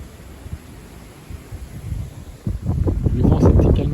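Strong southerly wind from a passing storm rumbles against the microphone, starting moderate and building into a louder, sustained blast toward the end.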